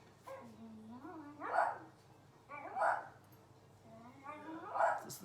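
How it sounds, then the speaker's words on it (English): Dogs bark outside a bedroom window in three loud, spaced bursts, each one with a whine or yelp trailing into it. "I'm going to go find out why they're barking outside my bedroom window."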